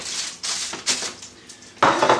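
A rested sirloin steak set into a warm dish and covered with foil: close clattering knocks of the dish, then a crisp rustling crinkle of foil, loud and near without talking.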